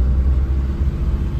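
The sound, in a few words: car engine climbing ghat road in first gear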